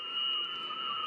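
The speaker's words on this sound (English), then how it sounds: "All right, what you're hearing are digital signals." Ham radio digital mode signals: two steady, unbroken electronic tones held together at an even level, faint and continuous throughout with no voices.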